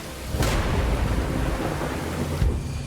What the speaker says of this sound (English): Even now, I can feel the storm coming.